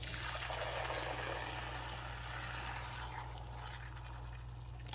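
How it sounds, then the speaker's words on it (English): Hot broccoli stock is poured from a pot into a bowl, giving a soft, steady trickle and splash over a low background hum. "We're going to drain it directly into our bowl."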